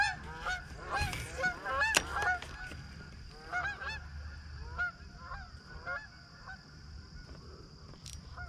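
Geese honking at a pond, a flock calling repeatedly in scattered overlapping bursts at a moderate distance over steady outdoor background noise.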